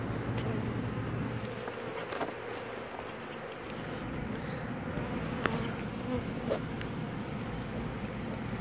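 Honeybees in Bradenton, Florida, swarming and robbing during a hive removal: a dense, continuous buzzing of many insects, steady and fairly close, with no talking.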